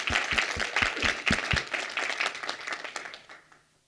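Audience at a conference session on content governance with Office Depot applauds, a few loud distinct claps at first swelling into dense clapping that gradually fades out.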